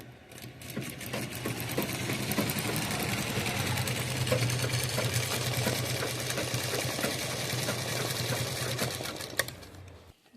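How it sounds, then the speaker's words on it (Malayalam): A sewing machine runs steadily for about ten seconds, stitching a bag sewn from an old saree, its fast even mechanical rattle loud and close with a low motor hum underneath and no voices. "അതുകൊണ്ട് തയ്ക്കുമ്പം 2-3 തയ്യൽ തയ്ച്ചോ."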